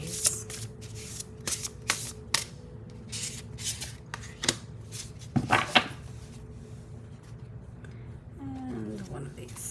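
Tarot cards being shuffled and handled in a series of crisp riffles and slaps at close range, with a person speaking softly at times.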